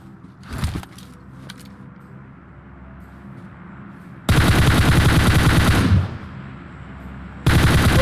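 Loud automatic gunfire from PUBG Mobile comes in two separate long bursts with quiet gaps between them, and a few faint single shots sound earlier in the quiet stretch.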